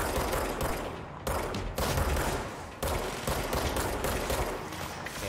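Sustained automatic gunfire in the video game Control, shooting at an enemy's shield, with dense rapid shots in several bursts broken by brief pauses, loud and continuous without talk.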